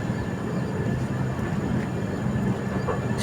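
Jabalpur–Somnath passenger train running on rails during heavy monsoon rain in Gujarat, a steady loud broadband rumble with continuous low-end roar throughout, no voices.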